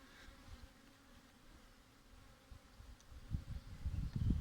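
A low honeybee buzz hums steadily, growing louder and busier toward the end as more bees drone close by.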